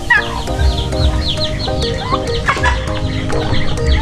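Native turkeys cluck and gobble in a steady, busy chorus, close by in a backyard, over a constant low rumble.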